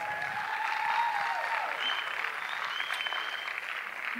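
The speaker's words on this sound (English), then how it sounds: "So let's give them a round of applause." Sustained audience applause at a fashion show in Port Richey, Florida, a dense wash of clapping with some cheering, steady and fairly loud throughout.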